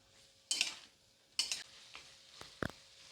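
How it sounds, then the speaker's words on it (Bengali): Turmeric paste and chopped tomato sauté in a pan for aloo dum, a spatula scraping and stirring in a few distinct bursts over a faint, quiet sizzle. "দিয়ে এবার এটাকে ভালো করে কষবো"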